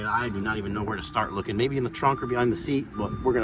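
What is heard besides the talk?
No everyday noises stand out.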